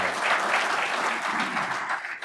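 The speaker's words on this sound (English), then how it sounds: "A round of applause for the Executive Committee" A room full of audience members applauds the executive committee at a community report event, with steady, dense clapping throughout and no talking over it.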